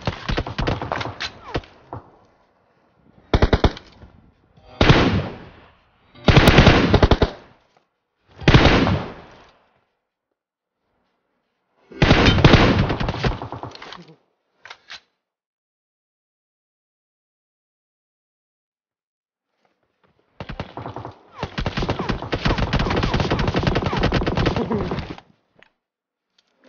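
Gunfire in the mobile battle royale game PUBG Mobile comes as repeated bursts of shots separated by silences, fairly loud and close, the last stretch a longer sustained volley.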